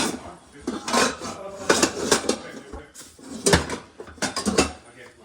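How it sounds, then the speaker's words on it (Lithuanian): Pots and pans clatter and clink as someone rummages through a kitchen cupboard to pick one out, with irregular metallic knocks and scrapes under intermittent talking. "Gerai, einam pasiimti puodą."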